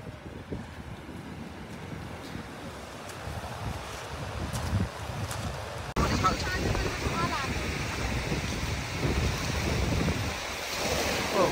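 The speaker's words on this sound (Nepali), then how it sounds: "छालहरू" Ocean waves wash and roll continuously, mixed with gusty wind buffeting the microphone and occasional voices in the background.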